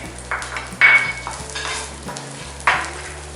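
Coconut sizzles and fries in ghee in a pan with occasional spoon scrapes and stirring, under a low background hum.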